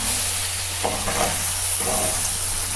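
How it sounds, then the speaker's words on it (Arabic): Pasta, lentils and rice being stirred and sautéed together in a pot, a steady close sizzle with a few scraping stirs across a short stretch. "كده خلاص ضمنا ان كله اتشوح مع بعضه اهو"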